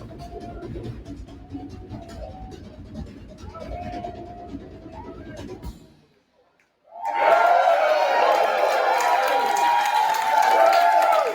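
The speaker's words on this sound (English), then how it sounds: "And the crowd goes wild." A crowd cheering and applauding erupts loudly after a brief pause, a dense sustained wash of voices and clapping, following a stretch of quieter background noise.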